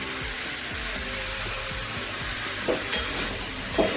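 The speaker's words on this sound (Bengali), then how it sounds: "ভালো করে মিশিয়ে নেবো সব সবজিগুলো ভালোভাবে সেদ্ধ হয়ে গেছে" Boiled vegetables stirred and mixed in a hot pan, a continuous close sizzle and frying hiss with a few louder scrapes of the spoon near the end.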